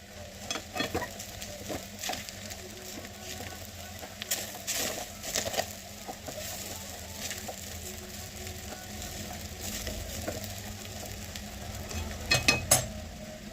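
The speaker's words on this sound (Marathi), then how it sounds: "याच्यात टाकणार आहे मी शेंगदाण्याचं हे वाटण, हिरव्या मिरच्या आणि शेंगदाणे। चांगलं मिक्स करून घेऊ।" Fasting khichdi cooking on a gas stove, being stirred as peanut paste, green chillies and peanuts go in: a soft continuous sizzle with intermittent scraping and spoon taps against the pot, quiet and close.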